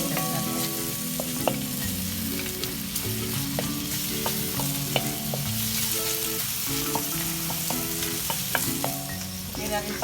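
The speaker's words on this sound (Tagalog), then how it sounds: "Sarang natin siya hanggang sa ma-extract natin yung juices ng mga spices natin." Ginger and spices sauté in a pan for ginataang langka with crabs, a steady close sizzle broken by repeated scraping and clinking as the pan is stirred.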